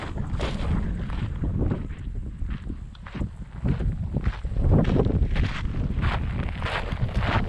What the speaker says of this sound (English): it's a nice breeze today